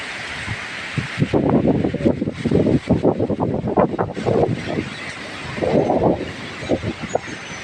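Heavy gusts of wind from Typhoon Kristine batter the microphone in surging bursts, with rustling and rumbling rising and falling.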